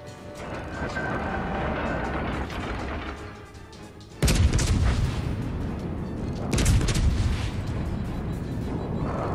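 Naval guns ripple-firing in World of Warships, a Tirpitz match on Xbox One X: heavy booming salvos in a dense rumbling wash, with sharp loud volleys breaking in at intervals over continuous low roar.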